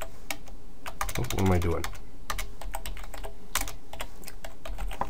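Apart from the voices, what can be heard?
typing on a computer keyboard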